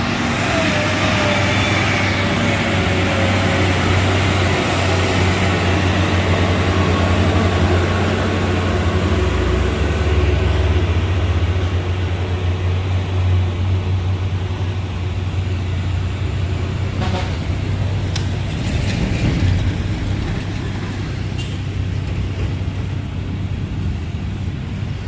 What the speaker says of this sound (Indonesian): Ini ada truk Fuso dan ini truk Isuzu Teraga ya, nanjak bersamaan.